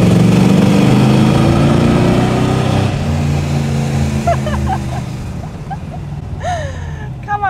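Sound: V8 muscle car engine in tunnel

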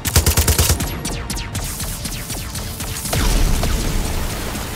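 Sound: gunfire in a video game

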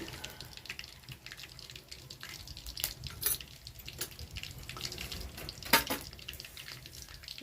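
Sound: cumin and mustard seeds frying in hot oil

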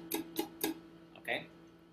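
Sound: muted guitar strings strummed

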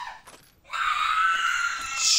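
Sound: character screaming in a video game

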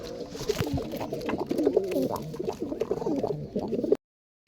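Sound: pigeons cooing, Rampuri male and Teddy female

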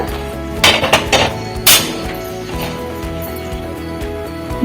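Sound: wok-style pan set on a stove

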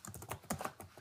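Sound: typing a file name on a computer keyboard

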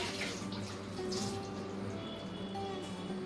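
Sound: washing a clay water pot with water

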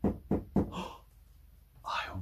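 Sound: knock at the door

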